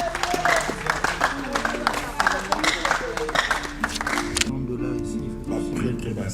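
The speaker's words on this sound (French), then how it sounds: "Applaudissons pour le ministre." Audience applause at a civil wedding, dense clapping with crowd voices that gives way abruptly to murmuring chatter and a voice over the room.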